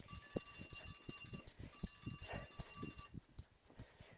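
Workout interval timer alarm beeping in rapid repeated electronic pulses, two bursts of steady tonal beeps separated by a short gap, close and fairly loud, with thumping footfalls of jogging in place underneath.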